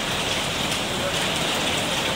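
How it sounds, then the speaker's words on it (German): Hard rain pours down outdoors during a thunderstorm, a loud, unbroken hiss of drops hitting surfaces with no individual hail strikes or thunder standing out. "Caro, und damit dir nicht langweilig wird, schicke ich dir noch ein bisschen Regen, Hagel"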